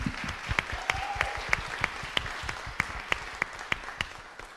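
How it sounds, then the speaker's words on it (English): A small audience at a mayoral election hustings for the voluntary and community sector claps for several seconds, scattered sharp individual claps in an uneven rhythm, moderately close and fading slightly toward the end, with no voices. "Should we do a clap?"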